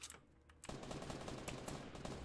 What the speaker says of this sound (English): There's gunshots outside.